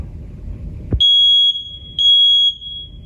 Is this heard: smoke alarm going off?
yes